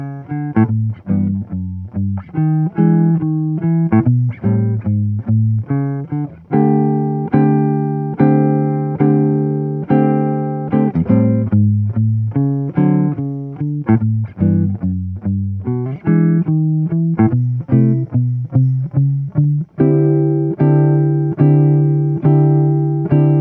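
Solo jazz guitar plays a walking bass line with chords, pedaling on the fifth to build tension; steady plucked notes in a continuous rhythm, loud and close, with no talking.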